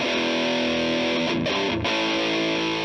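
Dense, saturated fuzz distortion from a console-based fuzz pedal with its output fed almost straight back into its input, a loud, continuous buzzing roar with sustained harmonic tones and two brief dips near the middle.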